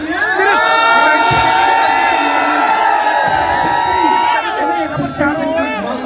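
A huge crowd of Karni Sena members roars and chants in a stadium protest, a dense, loud wall of voices with whoops and shouting throughout, someone speaking amid it.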